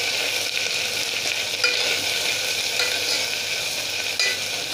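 Green chillies frying in hot oil in a pan give a steady, close sizzle with light crackling, heard alone with no talk over it.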